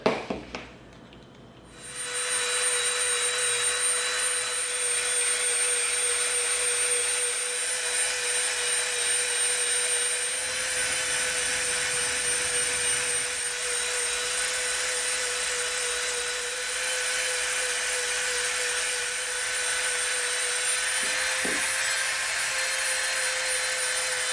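A rotary tool fitted with a smooth sanding bit whines at a constant high pitch while shaping EVA foam for a cosplay prop, a loud, steady motor drone with slight variations as it bears into the material.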